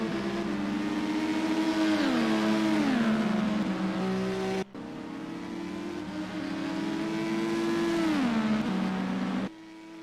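Race cars in an IndyCar GT sim racing game at Daytona International Road Course accelerate hard side by side, engines whining up and down through gear shifts; loud, continuous engine drone with a brief break midway.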